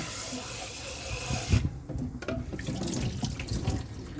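Rice noodles for khanom chin washed in a sink under a running tap, water gushing steadily and loudly up close, then splashing and sloshing as the noodles are handled.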